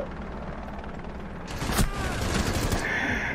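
Gunfire in the video game Rainbow Six: a sudden loud burst of rapid shots with sharp cracks and ringing, about halfway through, following a stretch of low muffled game ambience.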